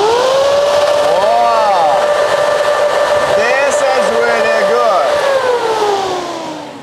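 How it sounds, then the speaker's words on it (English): Propeller on a homemade electric hoverboard spinning up: a loud, steady high whine with rising and falling motor tones, close and continuous, tapering off near the end, with a voice briefly underneath. "I'm gonna install the propeller, this big thing, and by spinning of that thing, this thing is gonna be riding like that."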